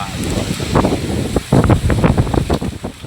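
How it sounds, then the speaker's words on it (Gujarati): Strong gusty wind roars and buffets the microphone in loud bursts, drowning out most other detail. "કેટલો પવન આવ્યો."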